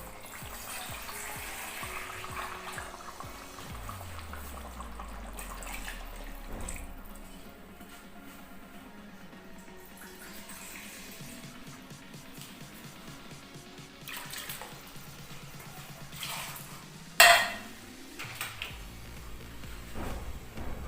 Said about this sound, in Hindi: इसमें हम थोड़ा सा पानी डाले लेंगे।